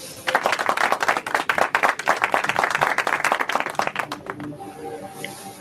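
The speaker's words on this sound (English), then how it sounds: "with an AYE clap, please let's make welcome Brian Humphrey" An audience claps to welcome Brian Humphrey on stage at an entrepreneurs' leadership assembly, a dense, loud round of applause that fades near the end as a voice starts to speak.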